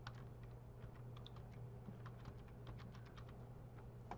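Rapid keystrokes on a computer keyboard as text is typed, a quiet, steady run of light clicks over a low constant hum, with no talking.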